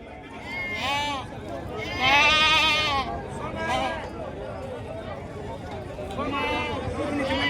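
Goats bleat at a busy goat market in Bhadradri Kothagudem, with several loud wavering calls overlapping in bursts while someone talks nearby.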